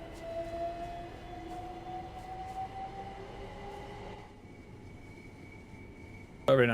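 A train running on the Mildmay Line in Train Sim World 5 hums along steadily with a rising tonal whine, then the sound drops lower partway through before a sudden loud burst near the end.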